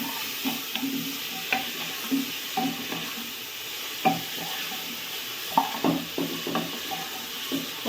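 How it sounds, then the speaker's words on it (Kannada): Onion frying in a pan with a steady sizzle, broken by repeated clinks and scrapes of a utensil stirring against the pan at an irregular pace, no voices. "ಆನಿಯನ್ ಸ್ವಲ್ಪ ಫ್ರೈ ಆದದ್ದೇ"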